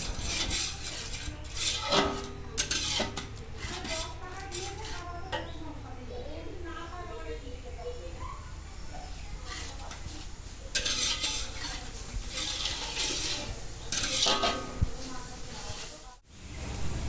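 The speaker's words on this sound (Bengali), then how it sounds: "কড়াই কন্টিনিউ নেড়ে যেতে হবে" Spices with onion and ginger paste stirred continuously in a wok, metal spatula scraping and clattering in steady rhythm over a low sizzle, close and fairly loud.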